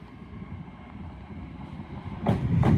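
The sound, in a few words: LNER Azuma train departing Doncaster station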